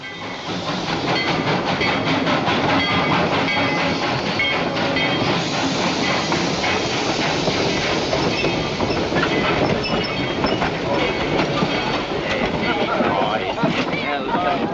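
Steady, loud rumble and rhythmic clatter of a train rolling along the tracks, with a hissing wash of noise that never lets up.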